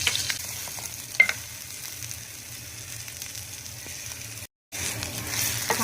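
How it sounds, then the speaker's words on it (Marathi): Asafoetida, curry leaves and a green chili sizzle in hot oil for Maharashtrian katachi amat. A close, steady frying hiss runs with a sharp pop early on and a brief cut to silence near the end. "हिंग, कढीपत्ता आणि एक हिरवी मिरची टाकूया मी."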